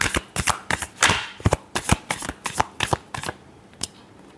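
Tarot cards are shuffled by hand in a string of quick riffling bursts and soft slaps, close and crisp, with an uneven rhythm that thins out toward the end and no talk.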